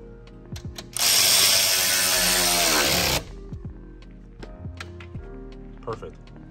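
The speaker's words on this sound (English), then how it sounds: "Go ahead and torque it down." A ratchet tightens bolts on a catch can bracket on a B58 engine, giving a quick run of close mechanical clicks, then scattered small taps and clinks, with someone talking in the background.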